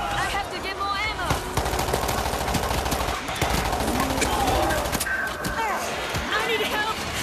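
Sustained machine-gun fire in the video game World War Z: Aftermath rattles in rapid bursts throughout, loud and close, mixed with other game noise and voices.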